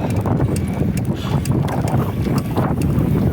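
Strong headwind buffets the microphone while cycling along an open boulevard, a constant low rumbling gust noise with uneven surges throughout.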